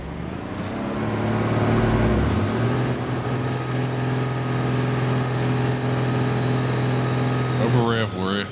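Semi truck engine in BeamNG.drive roaring loud and steady near redline, pitch climbing then holding at a high over-rev whine, with a brief clattering burst near the end.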